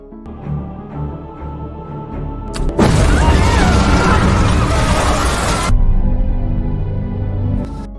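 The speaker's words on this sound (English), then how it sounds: "Kim finally decided to end it all with a suicide bombing" A loud explosion from a suicide bombing in an action crime thriller bursts in at about three seconds, a sustained broadband blast that rumbles on for several seconds over a quieter tense film score.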